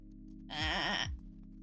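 A human voice imitating a goat, one long wavering bleat-like groan lasting about half a second, loud and close, with a steady background hum around it.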